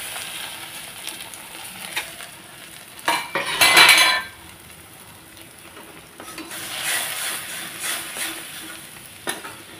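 Beaten eggs hit a hot pan, setting off a quiet sizzle. A brief loud burst of hissing and clatter comes midway, then a softer, steady frying hiss resumes with occasional utensil taps. No voices are heard.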